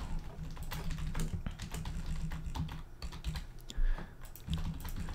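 Fast typing on a computer keyboard while filling in a website contact form, a dense patter of close key clicks in uneven bursts with a few brief pauses, no voices.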